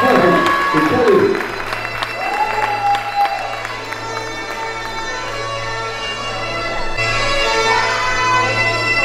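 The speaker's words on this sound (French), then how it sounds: "Allez, on applaudit bien forcément." An audience at a French bodybuilding competition applauds steadily in a large hall, the clapping spread under loud music and an announcer's voice.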